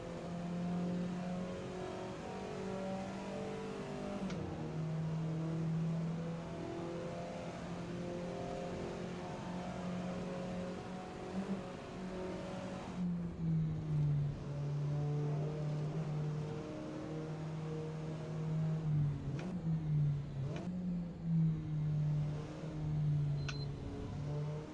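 A steady car engine drones in a racing video game, holding a low constant pitch with engine harmonics stacked above it for about twenty-five seconds. The pitch shifts slightly a few times and there are brief clicks, but the engine never revs hard.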